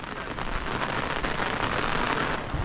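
Steady rain falls on the steep Madhyamaheshwar mountain trek, a dense continuous patter of drops close by, even and unbroken with no voices.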